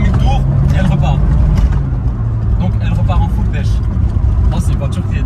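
A prepared supercharged VW Golf 2 GTI G60 accelerating hard from around 3000 rpm, a loud close engine drone from inside the car, steady and strong, with someone talking over it.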